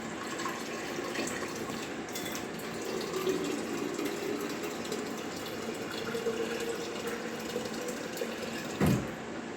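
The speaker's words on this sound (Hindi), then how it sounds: "आरओ का पानी लेंगे इसमें।" RO water is poured from a container into a pan while making carrot burfi in a home kitchen, giving a steady soft splashing trickle throughout, fairly quiet, with a brief louder clunk near the end and no talking.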